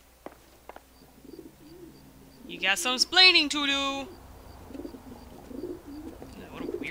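Pigeons coo softly in the LA Noire video game, faint low murmurs around a loud shouted line of speech in the middle.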